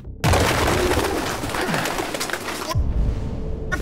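Pigeons cooing inside the video game Detroit: Become Human, a steady run of soft bird calls over game background ambience that cuts to a quieter room tone near the end.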